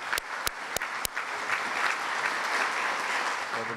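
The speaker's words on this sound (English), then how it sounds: "let's give them all a round of applause for helping us out." A crowd at a community forum applauds with dense, steady clapping that holds at an even level throughout, after a few sharp isolated claps at the start.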